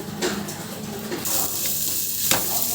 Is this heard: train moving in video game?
no